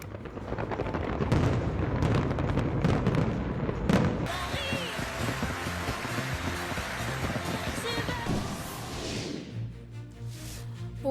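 Fireworks booming over the New Year celebrations in London and Edinburgh, a dense, loud barrage of overlapping bangs and crackles that continues throughout and thins slightly near the end.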